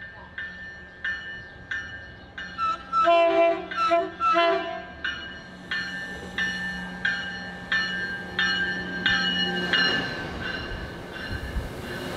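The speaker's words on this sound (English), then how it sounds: "we're greeted by a friendly horn and a wave from the driver" An MBTA Providence Line train horn sounds in a few loud blasts, then train wheels rumble and clatter in a steady rhythm as the bi-level and Comet coaches pass close by.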